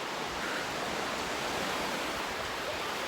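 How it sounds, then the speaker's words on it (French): Ocean waves wash continuously on a shore during an outdoor workout, a broad steady rushing hiss, fairly loud and unbroken, with no voices. "j'espère que vous allez bien m'entendre malgré le bruit des vagues"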